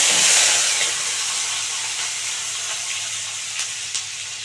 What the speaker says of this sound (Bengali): তেলটা গরম হোক বন্ধুরা এই যে প্রথমে দারচিনিটা ফোড়ন দিয়ে দিচ্ছি ওই তেলে